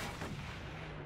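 A single shot from a sniper rifle in the Mad Max video game, a short, dull, booming report that rings out and decays over about a second, with no voices.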